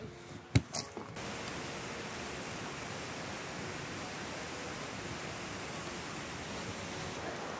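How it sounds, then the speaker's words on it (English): A large waterfall in Takayama, Gifu roars as a steady broadband rush heard from a distance, after a few brief knocks at the start. "it seems like this is the closest we can get to the waterfall because it's like, it's really big"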